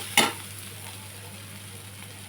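Onions fry in a pan, a single quick stirring scrape giving way to a steady, close sizzle with no talking.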